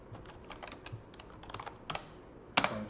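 Computer keyboard keys tapped while typing spreadsheet macro code, a sparse, irregular run of light clicks building to a sharper burst of keystrokes near the end, close and fairly quiet.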